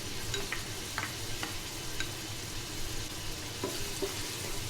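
Onion and garlic sautéing in a pan for an Arabic beef caldereta, a steady soft sizzle with occasional light stirring clinks, no voices.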